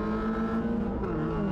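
A race car in a racing simulator holds a loud, sustained engine note that dips and climbs as gears shift, with no talking.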